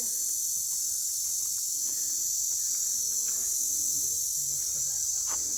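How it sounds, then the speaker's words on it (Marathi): Continuous high-pitched crickets trill steadily throughout at night, an even insect chorus with faint distant murmurs underneath. "किती किर्र आवाज येतोय पण ते कुठेच दिसत नाहीयेत रातकिडे"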